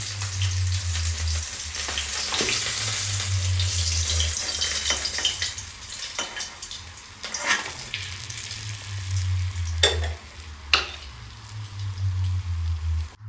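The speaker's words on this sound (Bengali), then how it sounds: "মাছগুলো আমি খুব কড়া করে ভাজবো না, একটু মিডিয়াম করেই ভেজে নেব।" Fish (bata) frying in hot oil in a pan, a steady loud sizzle and crackle that runs the whole way through, with a few sharper spits and pops and no voices.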